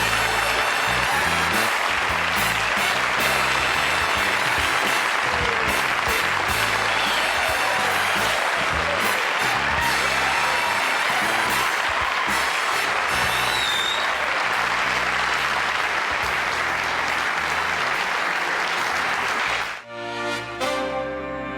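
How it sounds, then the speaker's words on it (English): Studio audience applauding at the close of a 1983 late-night talk show, a dense, loud wall of clapping sustained for about twenty seconds before cutting off abruptly near the end. "I'm humbled by that applause."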